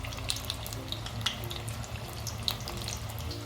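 Corn bhaji fritters fry in oil over low to medium gas, a steady soft sizzle with scattered small pops and bubbling, fairly quiet and continuous.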